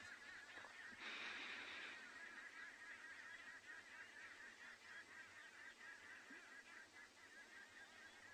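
Arrow-marked babblers and other birds call at sunset on a safari. One raucous call stands out about a second in, then faint, distant chatter continues over a quiet outdoor background.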